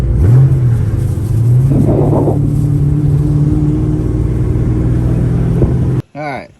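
A car with a built 416 stroker LS3 engine is driven, giving a loud, steady low rumble with a brief rev partway through before it cuts off abruptly near the end.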